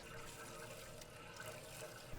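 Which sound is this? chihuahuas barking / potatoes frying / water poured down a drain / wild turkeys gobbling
water poured down a drain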